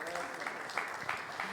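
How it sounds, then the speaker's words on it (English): A conference audience in Idanha-a-Nova, Portugal, gives soft, fairly distant applause with a continuous clapping texture, while a voice talks over it. "I would really ask you to give a very big applause to Mr. Zhang from Shengmu"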